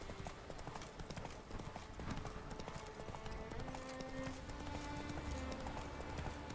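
Horse hooves galloping in The Witcher 3, a steady rapid clip-clop of hoofbeats running continuously at moderate loudness alongside game music and ambience.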